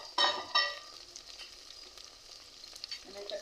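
Chopped tomatoes added to browned onions in a pan for chicken biryani, a soft sizzle and frying crackle with a couple of louder bursts as they hit the oil, then quieter steady frying.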